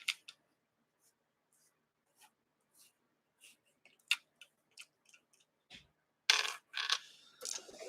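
Dice of several types, including six-sided and four-sided ones, rattle down through a dice tower as a string of sparse, light clicks and taps, followed by a louder clattering tumble as they land near the end.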